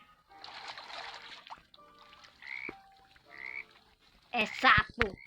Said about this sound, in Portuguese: É sapo.